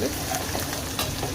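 Ginger garlic paste and masala with chilli powder frying in oil in a pan, a steady close sizzle with light stirring scrapes throughout.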